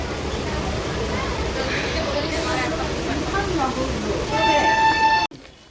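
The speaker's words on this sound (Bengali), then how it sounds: "জাস্ট শিয়ালদা থেকে ট্রেন ছাড়লো" Continuous rumbling of a moving train just departed Sealdah, with a steady broadband roar, faint voices in the background and a brief horn-like tone near the end.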